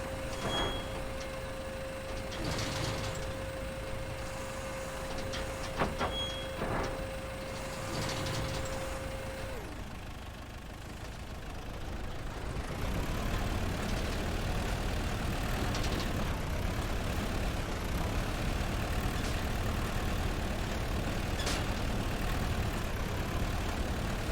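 A video-game mining machine's engine hums steadily while a tonal beep runs, then drops briefly and swells into a louder, rougher drone as the machine drives along a path and parks.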